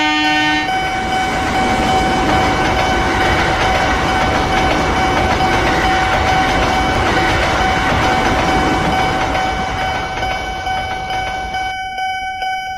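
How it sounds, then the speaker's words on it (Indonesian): A train roars past up close at a railway crossing, loud and continuous, with rumbling wheels and a steady ringing tone that cuts off near the end. "tapi macet karena perlintasan kereta api"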